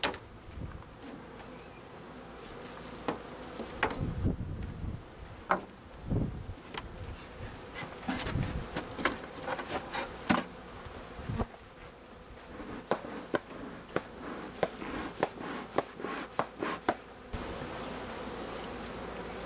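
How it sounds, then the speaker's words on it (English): Steady buzzing of many bees in a newly installed hive, close and continuous, with scattered louder passes of individual insects near the listener. "Let's check on the bees and see how they're doing."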